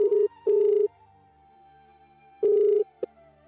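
A phone call being placed, with the ringback tone sounding in clear, evenly spaced bursts in a quiet room, two close together and then another after a pause, followed by a short click.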